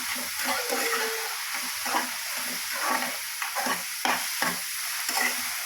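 Garlic and chopped chili fry in a pan for a mushroom curry, a steady sizzle broken by repeated scraping stirs, close and fairly loud with no voices.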